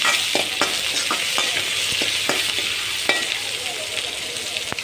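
Chilies sautéing in a pan with steady hot sizzle and repeated scraping stirs, close and continuous, no talk.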